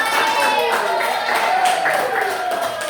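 A classroom of students claps for a classmate in a brisk burst of applause, with voices and chatter mixed in over the clapping.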